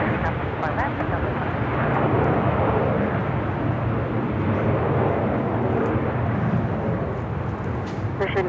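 A jet airliner taking off from runway 24 left at Los Angeles International Airport, a loud sustained engine roar under intermittent radio chatter from the tower.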